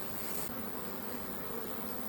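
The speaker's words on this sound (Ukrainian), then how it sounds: "Тут сіра файна бджола." A dense, steady buzzing of many purebred Carpathian honey bees, close and continuous, with no voices.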